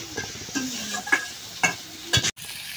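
Tomatoes stirred into spice powder in a frying pan, giving soft sizzling with a few scraping, clinking stirs of a utensil against the pan, close up and fairly quiet.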